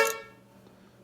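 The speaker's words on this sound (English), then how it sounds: "the horn will honk" A 1971 Mustang's horn gives one short, loud honk that cuts off abruptly, leaving a faint hum behind it.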